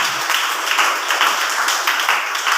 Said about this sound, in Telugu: కొట్టాలి చప్పట్లు గట్టిగా